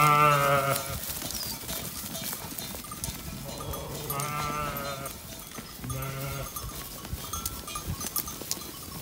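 A herd of goats bleats repeatedly in a dense alpine forest, several animals calling in overlapping waves at close to middle distance, with faint bell clinks and rustling beneath.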